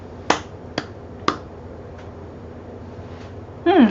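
Three sharp, separate hand claps from an audience at an entrepreneurs' summit ring out in quick succession, followed by a couple of faint scattered claps and a short burst of voice at the end.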